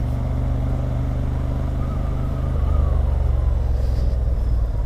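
Honda Hornet 755cc motorcycle engine rumbling steadily at close range, revving slightly louder midway as the bike pulls away on a training course.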